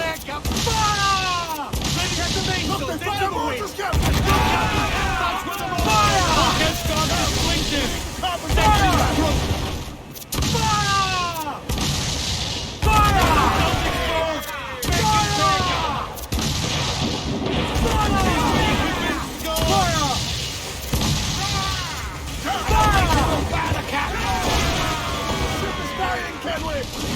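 Ship cannons fire broadside volleys in Assassin's Creed 4 Black Flag, a string of repeated booming blasts across the whole stretch, mixed with loud shouted voices throughout.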